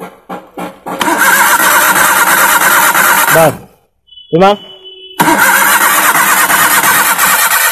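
A Maruti Suzuki Alto with no spark cranks on its starter without catching: a few short turns, then two long churning bursts split by a brief pause, loud and close, with a voice speaking briefly.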